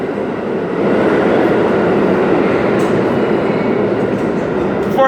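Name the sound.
subway train at the L train platform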